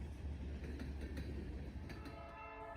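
BNSF 6111, a 25th anniversary locomotive, leads Norfolk Southern train 25A from Chicago, a steady low rumble of passing rail cars with faint clicking, heard at a distance.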